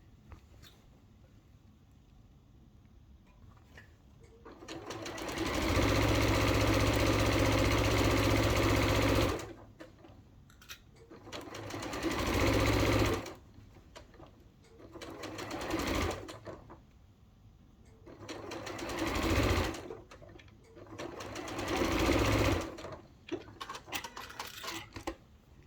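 A sewing machine runs along the seams of a fabric reusable bag in several loud, steady bursts of whirring stitching, one long run followed by shorter ones, with quiet handling in the pauses between.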